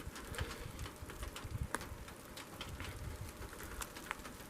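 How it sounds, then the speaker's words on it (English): Rain falling in Capital Forest makes a faint, steady patter of drops on leaves and ground, with a few sharper drips and a soft distant bird coo. "it's starting to really rain"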